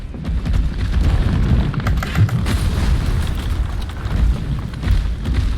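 Booming bomb explosions in the video game Jacksmith rumble one after another, deep and heavy, layered with crackling bursts in a continuous loud barrage.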